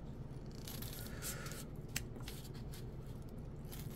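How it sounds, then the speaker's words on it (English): Scissors cut through foam close to the microphone, making quiet scraping snips and rustles in short bursts over a low background hum, with no talking. "What I'm going to do is actually cut some more foam here."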